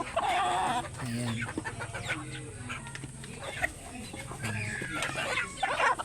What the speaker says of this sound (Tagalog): naglapita na ang aking mga alagang manok ayan oh pati yung tandang